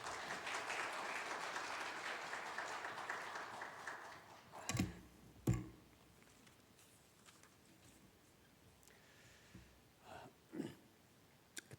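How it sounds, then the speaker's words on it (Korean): A church congregation at a Sunday worship service applauds steadily for about four seconds, then the clapping fades and a few isolated thumps and shuffles follow in a quieter hall. "우리 박 목사님 나오실 때 한 번 더 박수로 맞이해 주시면 감사하겠습니다"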